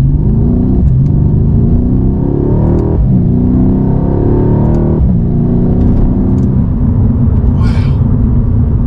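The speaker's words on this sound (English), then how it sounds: "you can manually override that and still have that beautiful exhaust sound" A deep, loud V8 exhaust on a Mercedes-Benz C63 S AMG rumbles and revs repeatedly, with throttle surges around every two seconds, close and continuous, with faint talk underneath.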